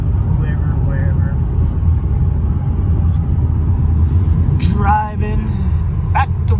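Audi A6 C7 3.0 TDI saloon driving along, a steady low road and engine rumble filling the cabin throughout, with brief higher chirps and clicks near the end.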